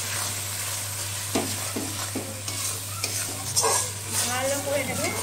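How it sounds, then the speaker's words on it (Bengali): Masala for kabuli chicken is stirred and fried in a pan, producing a steady sizzle over a low hum, with repeated scraping strokes of a spatula against the pan at an uneven rhythm, close by. "এরকম করে নিয়ে এরকম ঘুরিয়ে ঘুরিয়ে মশলাটাকে কষালে ভালোভাবে কষানো যায়।"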